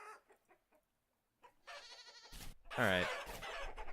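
Chickens clucking alongside goat bleats in the video game Vintage Story, short clucks at first, then louder bleating animal calls, with someone speaking briefly.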